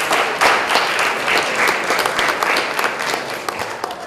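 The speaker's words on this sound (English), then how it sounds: "How about a round of applause for all three groups?" A round of applause from the audience at a computer studies fair, sustained dense clapping with a few sharper individual claps standing out, loud and continuous throughout.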